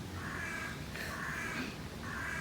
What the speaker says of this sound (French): Avec le petit corbeau.